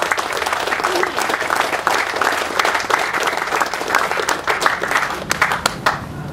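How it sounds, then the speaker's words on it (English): A crowd gives the mayor of Paterson another round of applause at a public appearance with a congressman, loud and close, with sharp individual claps in a continuous ovation and some voices mixed in. "Let's give the mayor another round of applause"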